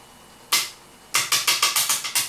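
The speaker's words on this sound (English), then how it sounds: "That's the sound of crappy plastic on a table." A light plastic object clacks onto a hard table once, then taps down several more times in quick succession, close and sharp.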